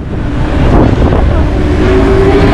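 A speedboat pulls away on the sea near Pattaya's Coral Island, its engine drone and rushing water loud and close, buffeted by heavy wind against the microphone.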